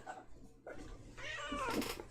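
A pet cat meows indoors during a painting livestream, giving a soft, drawn-out rising meow near the end of a quiet moment with a low background hum.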